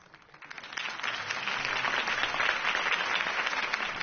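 A crowd applauds after Harvey Dent's campaign speech, the clapping building within the first second and then holding as a dense, steady wash.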